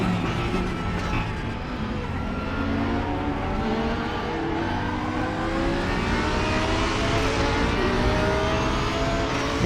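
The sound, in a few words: Lamborghini race car engine at Zandvoort in RaceRoom video game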